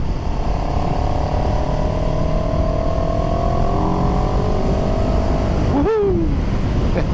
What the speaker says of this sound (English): Yeah, this engine likes to be revved.